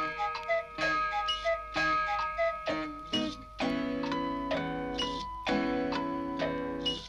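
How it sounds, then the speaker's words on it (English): From a 1967 Trumpton children's vinyl record, clocks tick in a steady rhythm while bright chimes ring out in melodic phrases, forming a busy, musical pattern of tones and clicks. "All of them chiming or whirring or clicking, cuckooing or ringing or tick-tock ticking"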